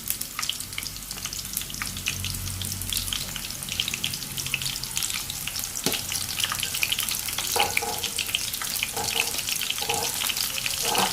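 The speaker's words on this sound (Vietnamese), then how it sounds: "Các bạn chiên từ từ như vậy cho đến hết những cái cây nấm của mình nha các bạn." Battered oyster mushrooms deep-frying in hot oil for a crispy vegetarian dish give a steady, dense sizzle with occasional clinks and stirring sounds throughout.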